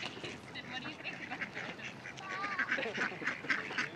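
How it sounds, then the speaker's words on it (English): Ducks quacking at a park pond, several calls close by in a busy outdoor scene, with people talking nearby throughout. "Look at all these ducks."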